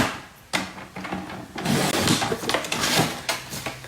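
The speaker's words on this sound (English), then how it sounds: "I'm just going to cut this sheet down to 3 inches so that I can run it through the mini embossing machine." A sheet of paper cut to 3 inches is cranked through a mini embossing machine: woody rasping and rolling friction with a sharp click near the start, growing into a louder grinding rub that surges and eases.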